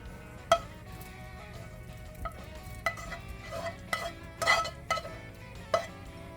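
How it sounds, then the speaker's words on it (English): Hamburger meat and onion soup mix are stirred together in a container, giving soft, close, irregular squelches and scrapes with a few sharper clicks, quiet and with no talking. "Now all you have to do is just mix everything together."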